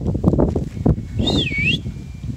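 A single human dog-training whistle, a rising-falling two-tone call lasting about half a second, sounds over muffled background noise and low voices.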